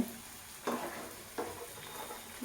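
Mangalorean malpuri fry in oil in a pan, a soft steady sizzle broken by a few brief scraping or tapping touches as batter is moved.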